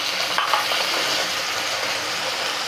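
Beans and potatoes with ginger and garlic fry in a pan with a splash of water, giving a steady close hiss and sizzle with a faint stir near the start.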